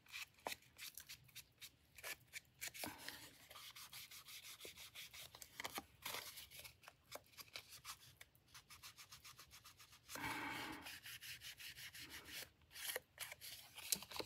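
Edges of a traveler notebook being inked, repeated soft close rubbing and dabbing strokes in an irregular rhythm, quiet and alone.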